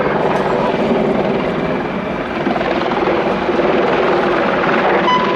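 An Apache attack helicopter flies at an air show, its loud, steady rotor and turbine roar filling the whole stretch at close range, with a commentator speaking under the noise.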